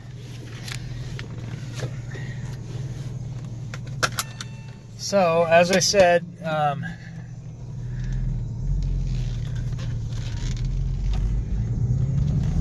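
A Porsche with about 210,000 miles sets off on a road drive: low cabin engine rumble and a few rattling clicks, someone speaking briefly over it, then the engine hum swells steadily as the car gets moving.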